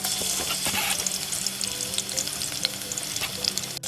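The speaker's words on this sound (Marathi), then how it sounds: "चला आता लसूण टाकते बरं" Garlic sizzling and frying in a hot pan of oil while cooking a fresh cashew curry, a dense crackling hiss with occasional pops and stirring clinks, close and steady throughout.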